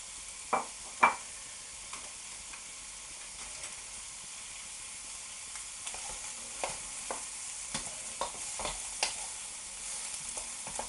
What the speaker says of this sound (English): Now we're going to stir fry these until they're tender.